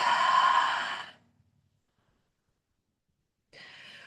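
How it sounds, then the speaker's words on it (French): A deep exhale through the mouth during yoga breathing, one long airy breath of about a second, close and clear. It is followed by silence, then the start of another breath. "on expire par la bouche"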